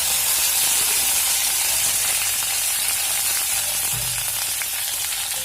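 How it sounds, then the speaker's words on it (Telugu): Curry leaves sizzle loudly in hot oil with mustard seeds, a dense continuous hiss and crackle, close and steady throughout, with small pops and spits scattered through it. "సో దీంట్లోకి కరివేపాకు వేసాను."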